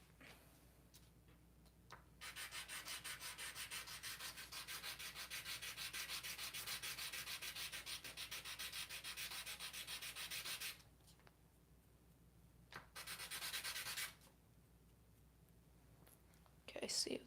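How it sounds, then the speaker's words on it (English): A small guitar part is sanded or shaved down by hand, giving steady broadband rubbing strokes for about eight seconds, then a short second burst after a pause, close and fairly quiet. "so just shave a tiny bit of this off"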